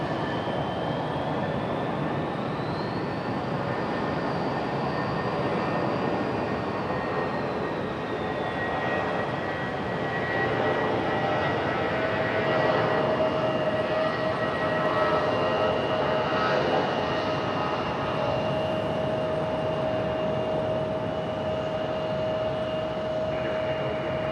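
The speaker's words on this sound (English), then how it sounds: "that E175 is hitting all of the loud points" Loud, sustained roar of a jet engine with whining tones as an Embraer E175 powers up for takeoff nearby at Raleigh-Durham International Airport, rumbling steadily throughout.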